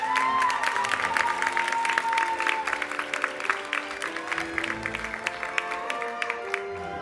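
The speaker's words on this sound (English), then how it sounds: "A round of applause for" Audience applause at a commencement ceremony, a steady wash of many hands clapping over a background of sustained music, continuing throughout and fading slightly toward the end.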